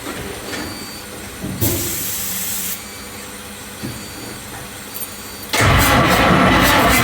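A box truck engine starts: quiet rumbling and rubbing noises first, then the engine catches and settles into a loud, steady running roar for the last couple of seconds.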